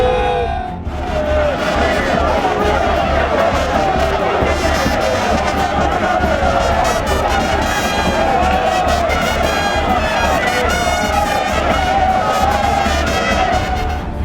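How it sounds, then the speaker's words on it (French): Large street crowd in Kinshasa welcoming the city governor: a dense, continuous roar of cheering voices, loud and steady throughout, with someone speaking over it. "Envahi par des foules nombreuses venues de différents coins de la capitale"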